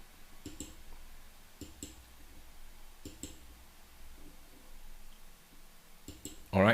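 Computer mouse clicks while setting up a trading bot in software, a few sharp, faint clicks in pairs spaced about a second apart over a quiet room background.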